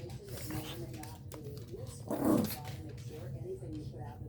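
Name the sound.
Shih Tzu dog Harley barking and growling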